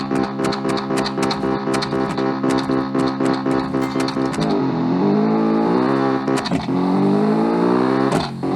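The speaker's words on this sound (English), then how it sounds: "Alright, so now we have a drag race, quarter mile." A race car in a quarter-mile drag race in the Automation video game, engine revving loud and steady, then rising through gear changes as it accelerates, with no talk over it.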